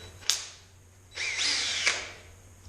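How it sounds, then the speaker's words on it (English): A power screwdriver spins a round cut from a fallen wooden branch, giving short whirring bursts: a quick spike near the start, then a longer rising whine with a sharp click at its end, close and fairly loud over a low steady hum. "So what I've been doing is I've chucked them up in the screwdriver"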